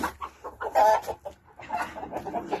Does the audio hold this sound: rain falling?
no